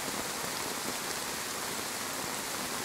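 Steady rainfall in the DayZ video game, a dense, even hiss of drops on surfaces that fills the whole stretch with no break and no talk over it.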